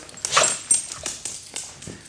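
Pet dogs Pipey and Falcor playing nearby, giving a few short yips and whimpering sounds in scattered bursts over a couple of seconds, with no talking.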